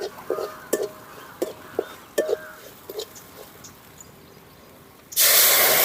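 Light clinks and scrapes of cookware, then a sudden loud, steady sizzling hiss as water with musumusukkai greens is poured into a hot pan for rasam.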